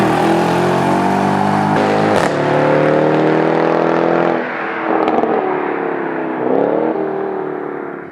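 A Mercedes E63 AMG with a louder custom exhaust revs hard up and down, its loud engine note rising and falling in sweeping pulls and sharp throttle blips, heard close with no talking.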